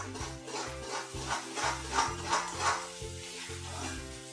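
A spoon stirs Kashmiri red chili powder and spices through hot oil in a pan, rhythmic scraping strokes about every half second over a steady sizzle, close and moderately loud.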